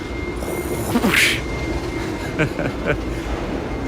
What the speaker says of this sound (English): I hear the subway. We got a subway going down under here.